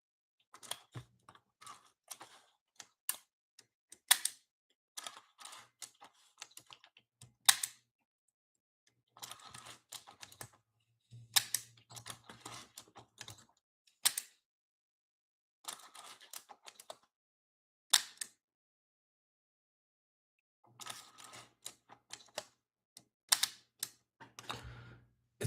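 Repeated mechanical clicks from the shutter of a Minolta Autocord camera, arriving in short irregular bursts with quiet gaps between them, close and fairly faint, with no talking.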